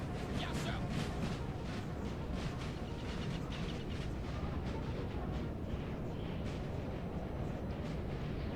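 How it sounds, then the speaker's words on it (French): Guard cannons fire on cavalry in the game Napoleon: Total War. Repeated booms land one after another inside a dense, continuous battle din, with a voice talking. "j'entends des coups de canon"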